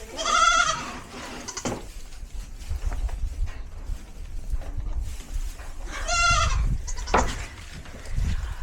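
Goats bleating during hoof trimming, two loud, wavering cries spaced several seconds apart, with shuffling and handling noises between them and no talking.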